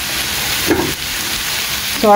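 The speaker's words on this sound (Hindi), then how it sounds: "म्हाजे कांदे न्ही हांव मातशें बरें फ्राय करून दिता" Chopped onions fry in a salted pan for pav bhaji, a soft continuous sizzle with a brief clatter of the pan near the end.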